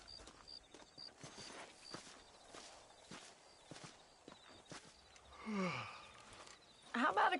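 Horse hooves clip-clop at a walking pace while riding in a Western video game, a steady series of soft near thuds with a brief animal snort and some faint game ambience.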